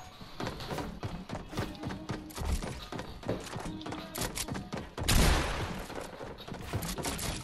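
Gunfire in the Fortnite video game, a fast run of sharp shots and thuds, loud and close, with a heavier burst near the end, mixed with occasional player talk.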